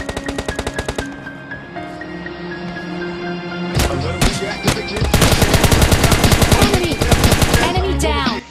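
Rapid bursts of automatic gunfire from the mobile battle-royale game PUBG Mobile Lite, loud and close, with sustained rattling volleys and short pauses between sprays, nearly continuous across the stretch.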